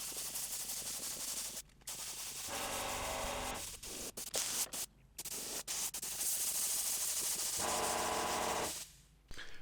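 Sanding hardener down on a Toyota Landcruiser 80 Series sunvisor: continuous scratchy, close-up abrasive rubbing with a few short pauses between strokes.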